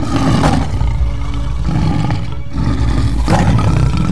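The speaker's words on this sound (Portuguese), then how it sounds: "ouviu leões rugindo," Large lions roaring, a sound effect of deep, rough roars in three long bursts separated by brief pauses, loud and close with no voices.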